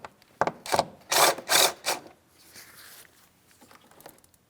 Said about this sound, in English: We have an 8mm headed clamp. Just go ahead and turn that counterclockwise.